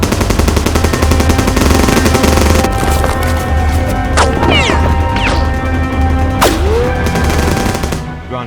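Heavy gunfire erupts in a Godzilla movie battle, rapid machine-gun bursts blending with crashes and impacts in a loud, dense, continuous barrage, with sweeping whistling effects cutting through.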